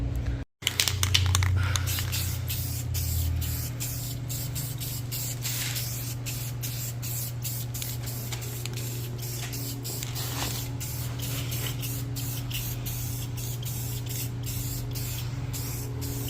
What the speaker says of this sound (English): I'm just going to clear coat them.